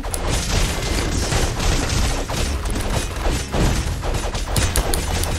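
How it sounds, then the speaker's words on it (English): In the Castle Crashers video game, a loud dense barrage of explosions and crashing impacts rolls on almost continuously with thuds and debris, a busy chaotic battle mix. "Are you throwing bombs?"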